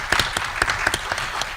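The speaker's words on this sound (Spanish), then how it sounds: "un aplauso por favor para Suhaila" Audience applause at a Spanish-language panel session on myth and gender, a dense, steady burst of many hands clapping together in a hall, brief and fairly loud.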